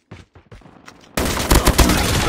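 Rapid gunfire in Call of Duty: Mobile on the Shoot House map: a few scattered sharp shots, then a dense, loud burst of automatic fire with several heavy cracks standing out near the end.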